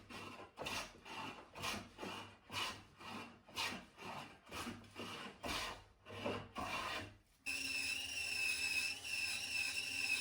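Repeated rasping strokes of a hand plane shaping wood into rectangular blocks and boards for violin making, about a dozen steady passes, close and clear, then a continuous whirring hiss takes over.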